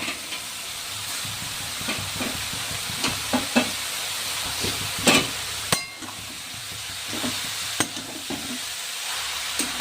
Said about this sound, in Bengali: এবার এটিকে ভালো করে ভেজে নিতে হবে